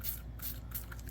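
Bristol Clean spotter sprays onto a carpet spot from a trigger bottle in two quick, soft hissing pumps, faint and close.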